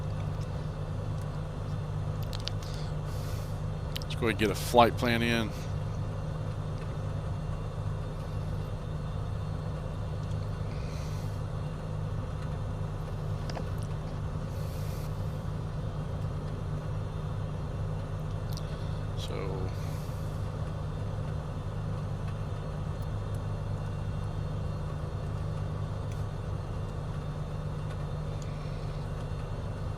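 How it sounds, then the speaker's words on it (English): A light aircraft engine runs up in Microsoft Flight Simulator 2020 as a steady low drone throughout, while someone talks over it with a brief louder clatter early on. "I'm at the engine run-up portion."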